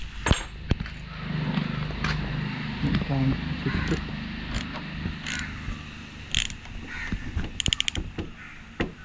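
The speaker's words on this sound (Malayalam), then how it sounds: "എന്നിട്ട് ഈ ക്ലാമ്പിനെ ജസ്റ്റ് ഒന്ന് ടൈറ്റ് ചെയ്യണം." A clamp is tightened while a meter is mounted on the handlebar of a Yamaha FZ V2 motorcycle. Close mechanical clicks and ratcheting taps come in short bursts, with someone talking over much of it.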